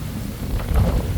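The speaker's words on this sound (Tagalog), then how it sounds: "Meron po tayong bagyo" Heavy typhoon rain and gusty wind roar with a deep rumbling undertone, a steady wash of storm noise with no voices.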